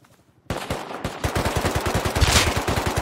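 Rapid automatic gunfire from the survival game Rust, with a quiet half-second lead-in before a loud burst of fast, evenly spaced shots that keeps going without a break.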